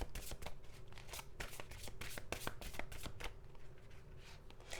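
A deck of tarot and oracle cards is shuffled steadily, with rapid, evenly repeated papery riffles and taps close to the ear, quiet and continuous for several seconds with no voices.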